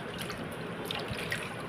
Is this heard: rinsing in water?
yes